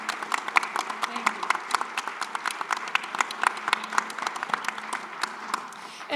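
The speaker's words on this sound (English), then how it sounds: "I think we should give them a round of applause for what they do" Audience applause at a university seminar, a moderate crowd clapping steadily with distinct individual claps throughout, recorded indoors with some light voices underneath.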